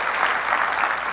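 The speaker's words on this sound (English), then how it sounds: "let's give him a round of applause" Conference audience clapping for a speaker about to present on cloud-native applications, a short, steady patter of applause heard from within the room.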